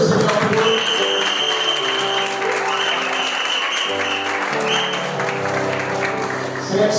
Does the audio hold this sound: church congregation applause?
yes